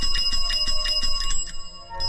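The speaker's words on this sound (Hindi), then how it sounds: "ए, घंटी बजाना बंद कर।" A small bell rings rapidly in repeated bright strikes, about seven or eight quick rings, loud and close, before stopping abruptly.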